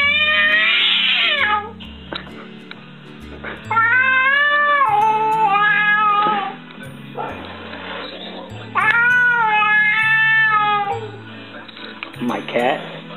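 A cat meows loudly and insistently in a drawn-out, complaining way, several long yowls in a row with short pauses between them, close up. A person talks briefly in the gaps.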